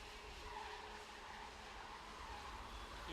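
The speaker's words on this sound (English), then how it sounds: "You can hear the Bridgestone tyres searching for grip" Bridgestone racing kart tyres scrabble for grip on a damp Le Mans circuit with wet patches during a CIK-FIA Academy Trophy final. A faint, distant, continuous broadband skidding roar plays alone.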